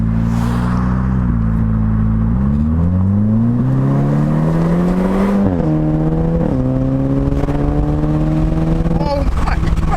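Volkswagen Golf R engine through an AWE SwitchPath exhaust, a loud deep drone that climbs and steps up in pitch as the revs rise and settle, with a voice talking over it.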